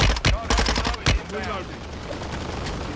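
Gunfire from the Call of Duty Modern Warfare II video game: several loud, close bursts of rapid shots early on, then a lower rumble of distant fire and battle noise.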